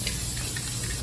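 A chair is spray painted, giving a continuous close hiss from the spray paint can that holds steady for about a second with no speech.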